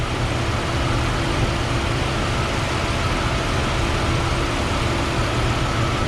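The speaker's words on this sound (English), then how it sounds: "I want you to tune in to the motor." A Jeep engine idles steadily, a dense continuous low rumble with even tone throughout, close and moderately loud, with no talking.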